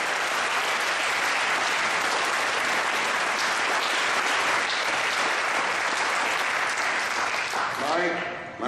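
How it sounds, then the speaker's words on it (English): Loud, continuous applause from an award ceremony audience in Toronto honoring Jean Lumb alumni, dense clapping that holds steady and then fades out as it ends. "Let's have a round of applause for these jeanlumb alumni."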